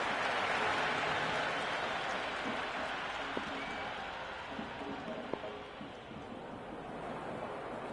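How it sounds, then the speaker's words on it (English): A stadium crowd in the Cricket 26 video game roars in a broad, sustained wash of cheering and applause that eases slightly over time, with a few faint knocks in the mix. "The crowd is electric right now."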